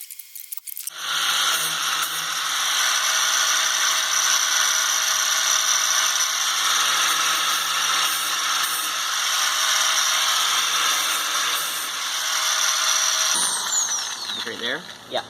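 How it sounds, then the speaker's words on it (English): A power drill whines steadily for over ten seconds while boring out the end of a crack in the body of a first-generation Dodge Cummins truck, then spins down with a brief squeal near the end. "So we just drilled that out at the end of a crack."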